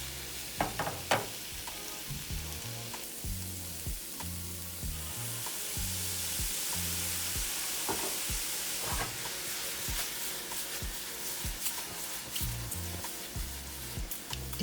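Tofu tossed in a hot pan with salt, garlic powder and soy sauce, sizzling steadily under periodic clanks and scrapes as it is stirred, with a louder hissing surge partway through.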